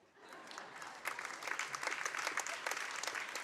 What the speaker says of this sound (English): another good round of applause for all of our senior athletes and their parents